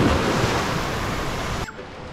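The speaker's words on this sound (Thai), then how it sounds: "มีคลื่นด้วยเหมือนอยู่ทะเลจริงๆเลย" Artificial waves surge in a water park wave pool at Centre Point Prime Pattaya, a loud broad rushing wash of water that cuts off abruptly near the end, leaving a quieter hiss.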